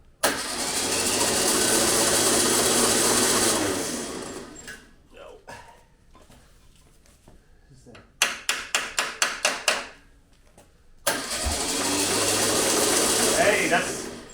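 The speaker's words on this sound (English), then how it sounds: "now let's just flip the engine over." An old, long-abandoned VW Beetle engine turned over slowly: stretches of loud, steady whirring drone give way to a quieter gap, then a run of about eight rhythmic cranking pulses before the steady drone resumes.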